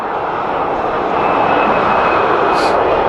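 A fixed-wing plane passing overhead in South Florida, heard as a loud, steady broadband engine roar that swells slightly over a few seconds with no talk.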